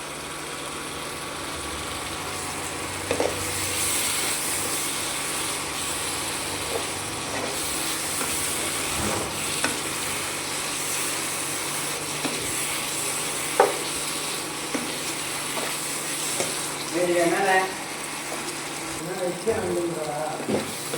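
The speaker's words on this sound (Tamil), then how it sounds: "நல்லா இந்த மாதிரி நம்ம எண்ணெய் திரிஞ்சு வர முடிக்க நல்லா கிண்டிக்கிடுவோம்." Kalan (mushroom) gravy frying in oil while being stirred, a steady close sizzle and hiss with occasional scrapes of the spoon against the pan, running continuously for the whole stretch.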